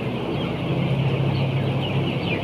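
Ten-day-old broiler chickens fill a poultry house with a dense, continuous chorus of soft peeping and clucking, close and steady, over a low hum, with no talking.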